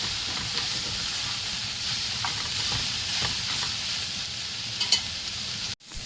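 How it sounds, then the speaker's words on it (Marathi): Soybeans being stir-fried and roasted in a pan give a steady, close sizzle and hiss, with light scraping as they are tossed and turned. "अशा प्रकारे आपल्याला उलट पुलट करून परतून घ्यायचं आहे"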